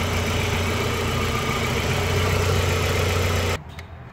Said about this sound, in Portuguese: O motor aqui já funcionou bem.